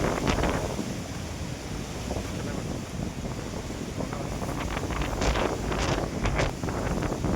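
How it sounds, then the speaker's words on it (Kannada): Strong wind roars steadily around an outdoor hillside spot near a cave and Shiva temple, a loud continuous rushing with gusting surges, no voices. "ಗಾಳಿ ಆರ್ಭಟ ನೋಡಿ"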